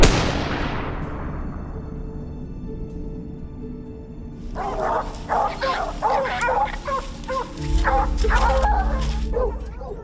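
Hunting dogs on a bear hunt barking, beginning with a loud bang that decays over a few seconds, then a pack of close, repeated excited barks and yips overlapping one another.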